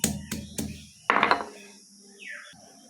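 Ginger, green chili and cumin are ground into a paste on a grinding stone, heard as close knocks followed by a rough scraping rub that fades out, with a faint squeak.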